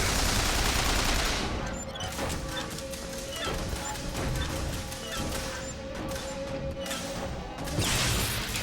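Crank gun firing in the video game Bioshock Infinite, a rapid, sustained burst of mechanical gunshots with crashing impacts, loud and continuous for several seconds.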